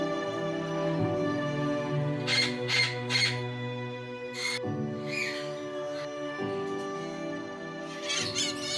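Parrots at a large parrot sanctuary, with repeated harsh squawks and shrill calls from several birds overlapping at close range against a steady tonal background.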